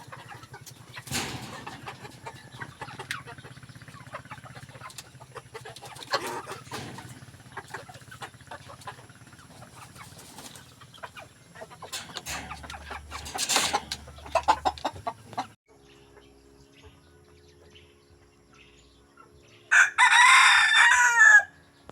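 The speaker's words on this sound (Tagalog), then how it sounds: "Nakakainis talaga tong mga manok na nag-aaway ba naman." Chickens squabble nearby amid scattered rustling and flapping, ending with a sharp, loud squawk.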